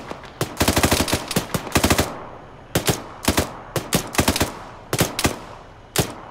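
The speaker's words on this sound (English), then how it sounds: "Taking fire from something." Video-game gunfire rattles in rapid automatic bursts, clusters of sharp close shots separated by short pauses, then scattered single cracks, with no talk over it.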